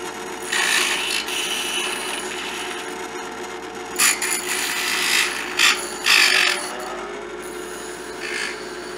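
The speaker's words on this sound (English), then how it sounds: "I'm grinding slag off of this piece of shit, piece of metal" An angle grinder scrapes welding slag off a piece of metal in sustained, loud bursts lasting several seconds, with sharper surges of grinding near the middle and a brief pause before it resumes.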